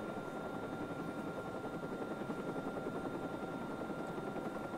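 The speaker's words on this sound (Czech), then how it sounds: "protože ten vrtulník, ten lítá vždycky úplně jako kos" A helicopter in the Watch Dogs video game drones continuously with a steady rotor chop that holds at an even, moderate level throughout, with no voices.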